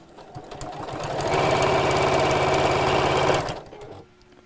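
A sewing machine runs steadily for about two seconds as it stitches down a chair cushion, its motor whirring with a fast rhythmic chatter, close and loud, then slowing and stopping.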